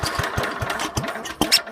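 A Troy-Bilt tiller engine is cold-started by recoil pull. A few quick rhythmic chugs from the pull cord are followed by brief sputters and a sharper pop, loud and close.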